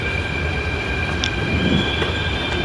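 A Mumbai metro train rumbles steadily along the tracks with a constant hum, faint high whine and occasional clicks, no voices.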